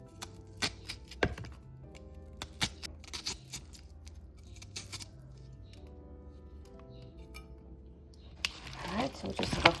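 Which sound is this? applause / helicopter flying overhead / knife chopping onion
knife chopping onion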